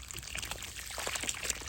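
Water poured into a snake burrow outdoors, a steady close pouring and trickling that runs alone throughout without talk.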